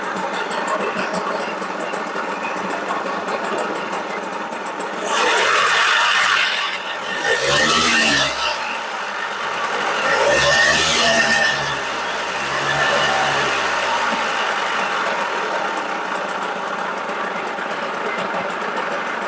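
A Tohatsu 3.5 two-stroke outboard motor runs steadily at close range, with louder surges as it is pull-started and revved, then settling back to a constant idle drone.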